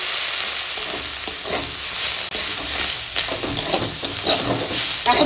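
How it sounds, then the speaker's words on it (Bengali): Salted onion greens frying in a pan, a loud continuous sizzle and hiss up close with repeated stirring scrapes and clatter. "পিঁয়াজ শাকটা ভাজা হয়ে গেছে"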